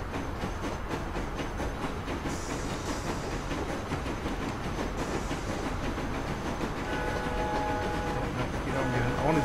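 A train runs continuously in the Train Fever simulation game, a steady rumbling, clattering rail noise with a faint hiss throughout, growing slightly louder toward the end, with occasional tonal hints near the close.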